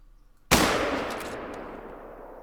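A single hunting rifle shot is fired at a doe in theHunter: Call of the Wild. The report is sharp and loud, following a quiet stretch, and rolls into a long fading echo across the open landscape.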